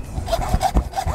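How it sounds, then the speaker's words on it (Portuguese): A hand saw cuts a wooden plaque in quick, rough back-and-forth rasping strokes, close and moderately loud, about five strokes in just over a second. "Com o meu serrote,"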